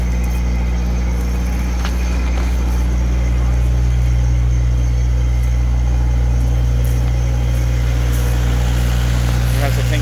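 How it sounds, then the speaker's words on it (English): A 10K diesel generator on a crepe food truck drones loud and steady with a low, even engine hum throughout, with a voice speaking over it. "It has a 10K generator, diesel."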